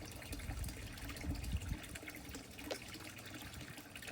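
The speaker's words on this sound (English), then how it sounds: "I just love having the sound of water here in the garden." Water runs and trickles steadily in a Florida garden koi pond, a soft continuous splashing with a few brighter drips, no voices.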